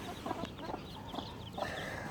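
A broody hen clucks softly in short, repeated bursts, with newly hatched chicks cheeping faintly alongside her in a close, steady barnyard scene.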